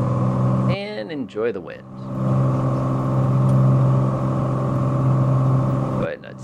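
A Cessna 182's engine drones steadily at full throttle in Microsoft Flight Simulator, a loud tonal hum that holds constant while someone speaks briefly over it.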